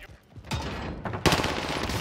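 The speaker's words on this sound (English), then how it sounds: "Why did he shoot me up like that?" A short burst of rapid gunfire in Call of Duty Warzone on Rebirth Island, with sharp overlapping shots that grow louder toward the end of the two seconds.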